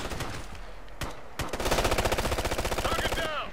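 A light machine gun fires in the video game Ghost Recon Future Soldier, with a few scattered shots and then a sustained rapid burst of close, loud automatic fire over continuous game background noise.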